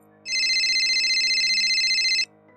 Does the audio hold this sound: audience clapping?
no